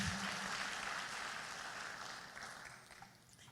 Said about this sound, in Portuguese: Vamos dar um aplauso ao Senhor